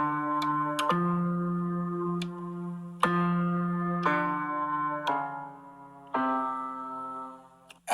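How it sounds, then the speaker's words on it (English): Keyboard tuned to Carnatic tuning plays the first tetrachord sa re ga ma, a series of separate sustained tones, each struck note ringing and decaying before the next, clear and alone at moderate volume. "the first tetrachord sa, re, go, ma will sound like this"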